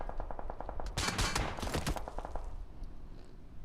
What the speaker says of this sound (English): They heard the gunshot early on.